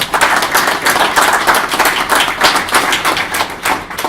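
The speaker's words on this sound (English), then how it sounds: "This is the part we're supposed to clap along with these guys." An audience claps along in a steady rhythm at a tech talk, the claps loud and even throughout with no talking over them.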